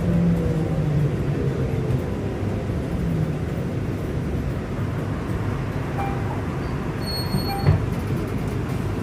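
Vancouver SkyTrain passing nearby, a loud, steady rumbling roar of the train running on its guideway, with faint squeals briefly rising near the end.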